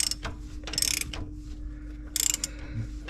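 A hand ratchet clicks as it loosens an exhaust rocker arm adjuster on a 1963 Corvair engine, with two quick bursts of rapid pawl clicks separated by a pause, close and clear.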